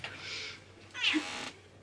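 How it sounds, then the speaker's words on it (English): A house cat gives two meows close by, a softer drawn-out one followed by a louder, rising one, in a quiet room with no talking. "if I can just move the kitty cat for one moment"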